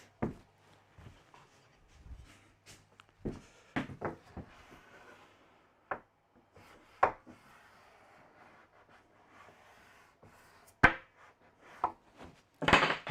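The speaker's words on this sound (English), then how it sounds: "And the chisel again." A chisel cuts into a timber edge strip fitted to a melamine benchtop, giving irregular sharp close taps and chips separated by quiet pauses.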